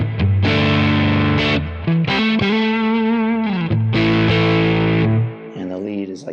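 Electric guitar played through a Nano Cortex crunch amp capture: distorted, harmonically rich chords and notes ringing loudly and continuously, with a couple of brief breaks before a final fading phrase, no talk.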